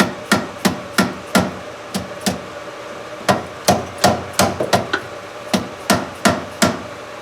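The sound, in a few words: hammer whacking parking brake motor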